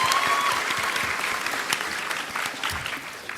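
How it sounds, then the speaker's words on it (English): A crowd at a San Diego Comic-Con panel for Assassin's Creed IV: Black Flag claps steadily in applause, a dense patter of hands that holds throughout and fades slightly toward the end. "let's get a little round of applause for Edward Kenway"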